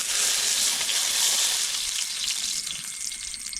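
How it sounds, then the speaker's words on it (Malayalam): Cooking oil pours from a one-liter bottle into a vessel for frying jackfruit, making a loud, steady rushing hiss that eases slightly toward the end, with no speech. "ഒരു ലിറ്ററിന്റെ ഒരു കുപ്പിയാണ് ഒഴിക്കുന്നത്"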